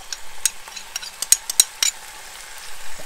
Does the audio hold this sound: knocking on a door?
no